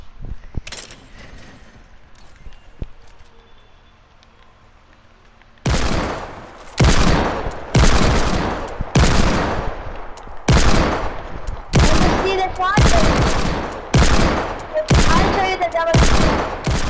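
Double hand cannon fire in the Fortnite video game: after a few seconds of quiet background, a series of about ten loud, heavy, evenly spaced shots rings out, close and dominant.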